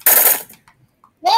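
A Glock 18 fires in the online game Shell Shockers, a rapid burst of close, loud shots at the start, then a few faint sounds and a short sharp noise at the end.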